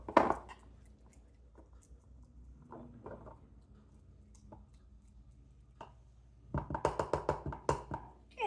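A spatula presses layers of seven-layer dip down into a cup, giving a soft scrape and squish near the start, then a quiet pause, then a quick run of wet, tapping pats close by near the end.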